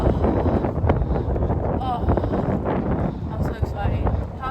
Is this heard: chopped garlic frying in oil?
no